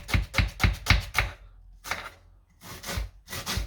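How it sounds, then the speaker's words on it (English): A knife chops onion, garlic and peppers on a board, giving a fast, even run of close, crisp strokes, then a pause, then a few more bursts of chopping. "I'm gonna start chopping up the veg."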